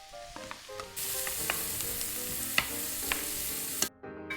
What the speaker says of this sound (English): Once your butter's melted, we'll go ahead and add in the onions. We'll start to cook those out.